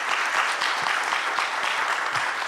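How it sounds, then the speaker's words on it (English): Audience at a Divine 9 mayoral candidate forum claps steadily and densely for the county mayor candidates, a full, even round of applause with no pauses. "Another round of applause again for your candidates for"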